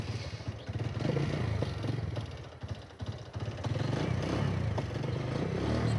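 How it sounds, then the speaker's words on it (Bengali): A second-hand motorcycle engine running at close range, a steady low throbbing idle with light mechanical clatter, without talk. "আমরা বাইকের সাউন্ডটা শোনানোর চেষ্টা করতেছি একটু"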